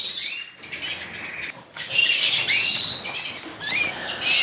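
Young canaries in a bird room chirp and squawk close by, mixed with bursts of wing flapping and scuffling, lively and uneven.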